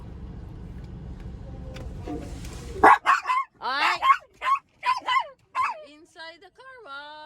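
Several dogs bark and yip in sharp bursts inside a car wash, loud and close, following a stretch of rumbling wash machinery, with a brief spoken word among them.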